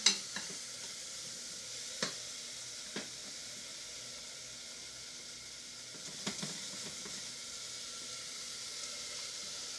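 Vegetables for a broccoli soup cook in a pot with a soft, continuous simmering hiss. A few light clinks from stirring sound near the start and again around the middle, and no one speaks.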